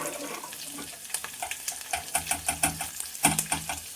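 Churned buttermilk is poured into a sizzling tempering for kadhi, a curd curry. A steady watery hiss and slosh run under a rhythmic series of stirring scrapes in a pot.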